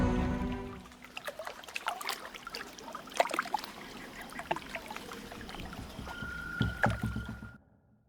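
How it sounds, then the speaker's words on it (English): Wooden rowboat in The Witcher 2 drifting on water, a leaky craft with steady splashing, dripping and creaking oar strokes close by, a brief tonal hum near the end before the sound cuts to silence. "Damned leaky boat."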